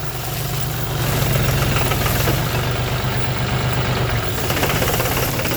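Tractor engine idling, a loud steady low rumble with a regular throbbing beat throughout, close by and without talk.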